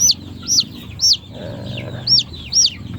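A young chick with a congenitally curled toe peeps in repeated high chirps, about six bright calls spaced across the moment, over low handling noise as black tape is pressed onto its leg.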